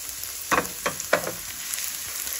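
Chopped onion added to hot oil in a pan sizzles with a steady bright hiss, marked by three or four quick clattery bursts as the pieces drop and are moved around.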